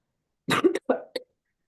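A short burst of harsh coughs, about three or four, close and loud, followed by silence.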